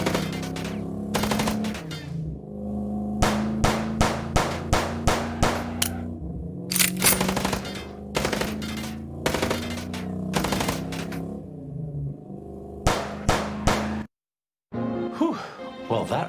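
Gunshots in the video game Chicken Police: Paint it Red, loud sharp shots fired in quick rhythmic bursts over a droning background score, ending in a brief silence.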